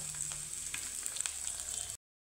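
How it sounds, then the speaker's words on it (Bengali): Whole tempering spices fry lightly in hot oil for a vegetarian Rajasthani dish, giving a steady close sizzle and crackle that stops abruptly after about two seconds. "ফোড়নটা আমি একটু হালকা করে ভেজে নিচ্ছি"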